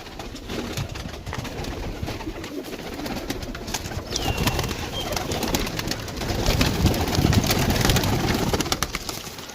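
Pigeons coo and flutter steadily in a large loft of about 160 to 170 birds of mixed breeds, including Rampuri, Teddy, Golden and Kamgar, with a continuous dense layer of bird sound throughout.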